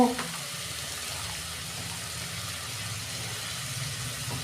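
Tomatoes and a little turmeric frying in a pan over softened ginger and garlic for a Bengali fish-head cabbage curry, a steady low sizzle that runs evenly throughout with no talking.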